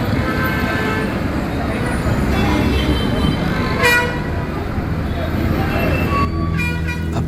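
Heavy traffic rumbles along a busy main road, with car horns tooting repeatedly, including a cluster of sharp honks near the end, all loud and close.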